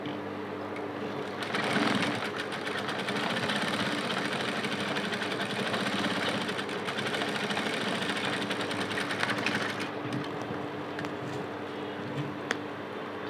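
A sewing machine runs steadily, stitching a casing for corset boning. The motor hums and the needle rattles continuously, close by and without talk.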